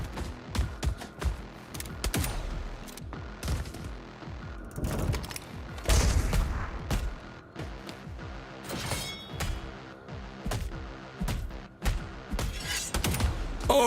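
Video game gunfire in a fight against machines, with irregular bursts of shots and crashing impacts that are loud and dense throughout, some heavier booms mixed in, and no talk over it.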